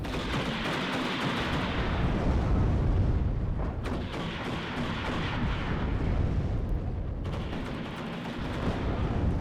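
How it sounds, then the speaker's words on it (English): Grad rocket artillery barrages in the real-time strategy game WARNO, a continuous roar of overlapping blasts and rumbling impacts with a few sharper cracks, loud and dense throughout, with no talking. "And just a good old explosion."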